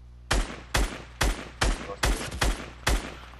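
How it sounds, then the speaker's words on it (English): Gunfire in Fortnite: seven sharp, evenly spaced single shots ring out in quick, steady succession, each with a short ringing tail, loud and near. "They're getting shot by another team."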